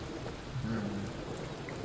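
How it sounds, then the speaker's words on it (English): Rain falls steadily over a city in the Breakneck video game, a soft continuous hiss of downpour with a faint low rumble beneath it. "This is just a rainy city."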